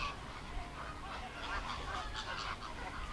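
A flock of flamingos honks continuously, with loud, overlapping nasal calls that keep coming without a pause.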